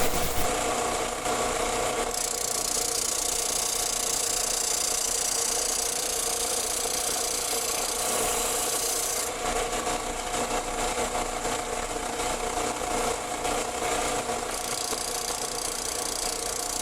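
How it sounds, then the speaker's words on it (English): A disc sander smooths the edge of a wooden template for a bread box tambour track, giving a steady, close whirring hiss that shifts in brightness as the wood is pressed against the disc. "That's very important to know when you're using a disc sander."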